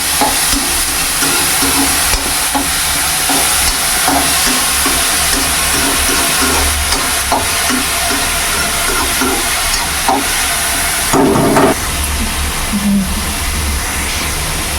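Loud, close, continuous frying sizzle in a pan with intermittent scraping stirs, steady throughout, heard alone.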